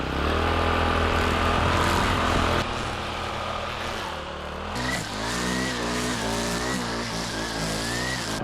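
A car engine revs and moves off close by, a steady loud engine drone that drops and then rises again with shifting pitch as the car pulls away.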